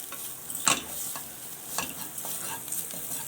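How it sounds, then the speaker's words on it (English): Potato keema for samosas being stirred with garam masala in a pan, with a soft continuous sizzle and a few spoon scrapes against the metal, one sharper clank early on, close with no voices. "Give a nice mix."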